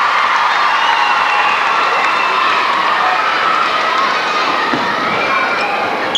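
A crowd at a 1992 Australia versus New Zealand international netball match cheers and shouts continuously, a loud, dense roar of excited voices and scattered applause filling the arena without letup.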